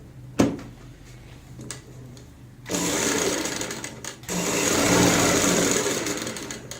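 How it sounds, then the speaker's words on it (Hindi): A sewing machine runs stitching along the outer edge over buckram: a few short taps first, then two longer, loud bursts of rapid mechanical whirring with a brief stop between them. "अब हम बाहर की साइड सिलाई लगाएंगे जहां पे हमारी बुकरम होती है।"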